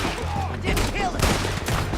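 Red Dead Redemption 2 gunfire crackles in quick overlapping shots, loud and close, with voices calling out amid the bursts.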